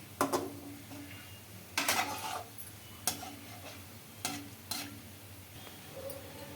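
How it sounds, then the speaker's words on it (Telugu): Gulab jamun dough balls made from Balamrutham flour frying in hot oil, with a soft steady sizzle under several sharp scrapes and taps as they are turned in the pan, fairly quiet and close. "కొంచెం అయితే ఫ్రై అయిన తర్వాత ఇటుపక్క అయితే తిప్పేస్తున్నానండి"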